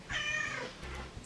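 A house cat gives one drawn-out, rising-then-falling meow, fairly quiet and close, followed by a few soft murmurs, with no voices.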